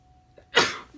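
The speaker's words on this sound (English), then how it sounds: "Oh, sorry, I had to sneeze." A single sharp sneeze, close and loud, preceded by a faint quick inhale and fading out quickly.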